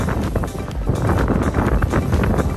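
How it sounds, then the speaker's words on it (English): Strong winter storm wind blowing snow in Winnipeg, a loud, gusty buffeting roar with rumbling low end and irregular surges. "The wind is very strong."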